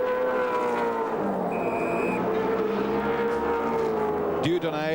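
Pit lane at the 1987 Bathurst 1000 during race pit stops, with steady engine drone and mechanical clatter throughout, brief whining tones, and a sharp burst near the end, all under continuous commentary.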